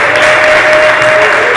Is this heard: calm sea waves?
no